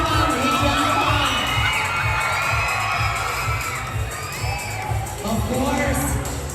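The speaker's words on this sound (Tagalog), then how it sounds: "Parinig muna ko ng palakpakan na may kasamang hiyawan!" A mall crowd at Gateway Mall 2 shouts and cheers loudly and continuously, with whoops and excited voices rising over a steady rhythmic music beat.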